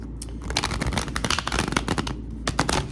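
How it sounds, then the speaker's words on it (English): A deck of tarot cards is shuffled, with rapid dense flutters and crisp riffling snaps heard close and fairly loud, alone without talk. "as I'm shuffling the cards"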